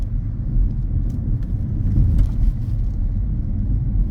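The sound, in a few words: car driving through a mini roundabout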